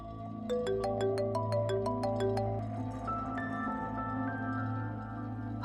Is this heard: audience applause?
no